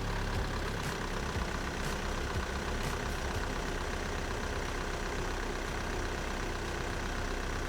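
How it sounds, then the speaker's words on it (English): A VW Golf MK6 engine idles steadily after being started following a flywheel replacement, a continuous low mechanical hum with faint ticking, no voices. "You can start the car up, make sure it runs nicely."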